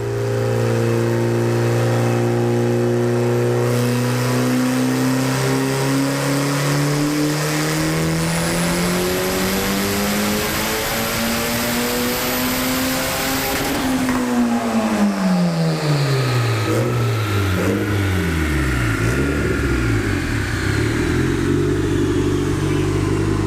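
An Acura Integra engine on a dyno screams as it revs steadily higher over many seconds. It then drops off and falls back to a rough, burbling idle, all loud and close with no talk.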